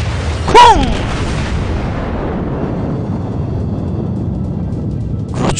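A heavy naval shell strikes a warship in World of Warships, one loud booming impact with a brief whistling tone, then a long rumbling decay under steady engine and sea noise.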